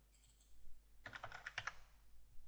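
Keys on a computer keyboard tapped in a quick burst of several clicks, entering dimensions while sketching a rectangle in CATIA V5 CAD software; close and fairly quiet, with near silence before and after.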